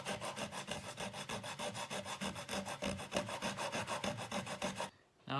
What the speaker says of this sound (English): I'm going to use an 80 grit sandpaper